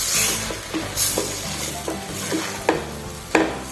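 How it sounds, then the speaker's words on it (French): Meat browns in a spice mixture in a pan for Fassi-style kebab maghdour, a constant close sizzle broken by periodic knocks and scrapes of stirring. "je mets ma viande. Je fais revenir dans ce mélange"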